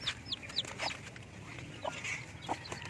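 Native chickens clucking nearby, a hen with short repeated clucks and high chick peeps over a noisy farmyard background.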